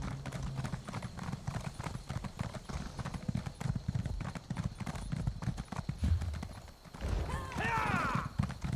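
In the video game The Elder Scrolls Online, horse hooves clip-clop in a brisk, steady rhythm close at hand, and a whinny rings out near the end. A voice speaks over the game sounds.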